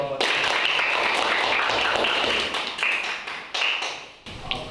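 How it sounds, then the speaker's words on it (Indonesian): A classroom of students applauds group 3 after their presentation in an Indonesian school lesson, dense steady clapping filling the room and then thinning out with a few scattered claps near the end. "Tepuk tangan untuk kelompok 3."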